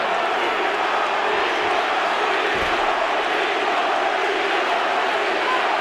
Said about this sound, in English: It's hard to tell what the crowd's thinking here. I don't know if they're screaming Vitor or Tito